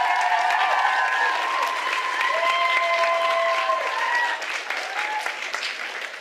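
A crowd applauds steadily for about six seconds at a live music event in Surfers Paradise, broad clapping filling the clip, with some cheering and a few voices over the top.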